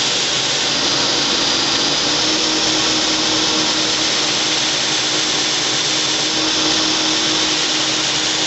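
A belt grinder runs continuously as it grinds notches into a kukri blade, a loud, close, steady abrasive whine with no pauses.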